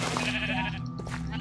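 A sheep in modded Minecraft bleats once, close and clear, in a short wavering cry.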